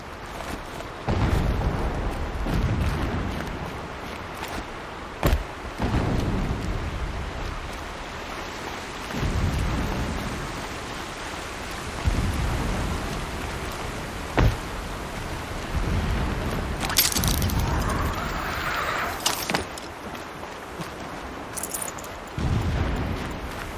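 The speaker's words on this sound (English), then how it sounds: "Explosions in the distance." Distant explosions in Horizon Zero Dawn, deep booming rumbles rolling in repeatedly over a constant low ambient wash, with a few sharper bursts scattered throughout.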